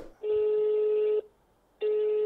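Telephone ringback on an outgoing call: two long, steady electronic ring tones separated by a short silence, loud and clear with no talk over them.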